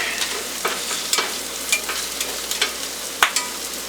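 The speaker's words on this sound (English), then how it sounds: "Eggs slow to cook." Eggs frying in a pan for breakfast, a soft steady sizzle with scattered crackles and pops, close by, alone without talk.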